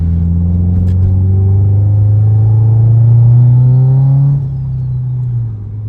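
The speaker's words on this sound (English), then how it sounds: "I just trying to let you guys hear some of the engine noises and stuff when I can" A Subaru STi engine drones steadily while cruising, a loud close rumble with rising and falling harmonics like gentle acceleration, then easing off near the end; no talking.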